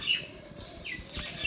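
A parrot perched in a tree gives a few faint, high, quick chirps over a quiet outdoor background.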